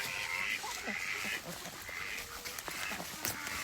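Backyard ducks give a few quacking, honking calls at moderate distance, repeated in short bursts over steady outdoor background noise.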